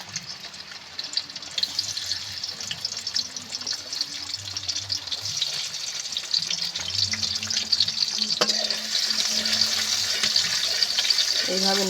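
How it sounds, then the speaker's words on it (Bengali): Chopped garlic sizzles in hot oil in a wok (kadai), a steady loud crackling hiss close by, while someone speaks over it. "এইভাবে নেড়ে চেড়ে ভালো করে লাল লাল করে আমি ভেজে নেব রসুনটা সুন্দর মতো করে।"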